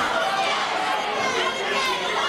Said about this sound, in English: You can't hear yourself think for the crowd here enjoying this